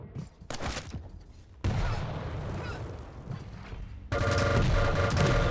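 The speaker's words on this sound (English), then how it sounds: "PASITA destroyed by those 2 rockets" Rocket launcher fire in a Quake duel match: sharp blasts and explosive bursts in quick succession, close and loud, separated by brief lulls of quieter gameplay noise.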